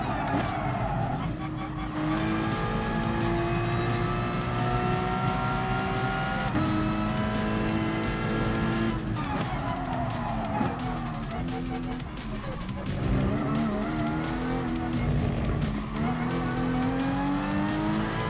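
A race car in Gran Turismo Sport brakes hard with a sustained, loud engine whine and tire squeal that stays steady and close, with shifting pitch as it slows through a chicane.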